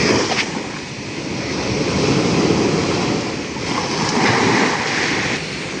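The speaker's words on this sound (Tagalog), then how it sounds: "Kaya ngayon ay parang nakakarating na po yung alon dito." Ocean surf washes up onto the shore where people sit, a loud, broad rushing roar that swells and recedes in slow surges, mixed with gusty wind noise and no talking.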